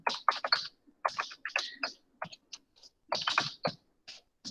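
Close, crisp typing on a computer keyboard comes in short uneven flurries of key clicks separated by brief gaps, with no voices over it.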